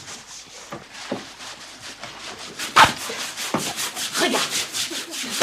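Brush scrubbing grime out of laundry by hand, repeated rhythmic rasping strokes, soft at first and then stronger and closer, with a short spoken word near the start.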